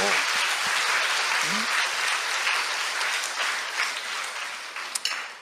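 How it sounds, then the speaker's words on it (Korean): A church congregation claps together in dense, steady applause during a patriotic sermon, a brief tonal voice sound near the start, the clapping thinning slightly toward the end. "박수로 하나님께 영광입니다."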